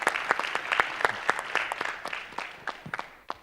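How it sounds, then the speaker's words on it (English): An audience at an education panel discussion gives steady applause, with many hands clapping at once, moderately loud, fading slightly near the end with no talk over it. "we need to applaud our teachers."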